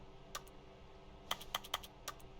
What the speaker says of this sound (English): when I click my mouse, I do hear like a typing noise